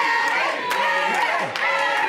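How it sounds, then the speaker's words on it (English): A wrestling crowd cheers for Aaron Bradley during his match against Adam Chandler, a dense, steady roar of shouts and clapping filling the arena with no letup, with voices mixed in. "that's the Aaron Bradley cheering section"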